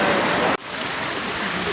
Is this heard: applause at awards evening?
no